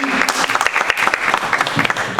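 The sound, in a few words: congregation applause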